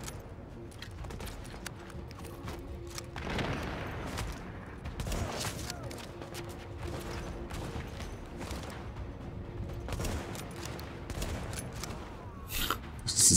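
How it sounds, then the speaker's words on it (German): Rapid gunfire volleys in the video game Tom Clancy's The Division, repeated sharp bursts rattling through an ongoing firefight at moderate loudness, with clustered salvos and brief lulls. "Das ist wie die Schüsse da drauf einhageln"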